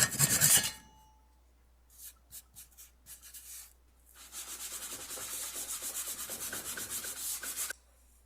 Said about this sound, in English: I don't have a Japanese pull saw, but I do have this jam saw